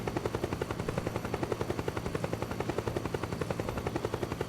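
Helicopter rotor in Metal Gear Solid 4, a steady fast chopping pulse with a dense engine roar that holds loud and continuous throughout, with no voices over it.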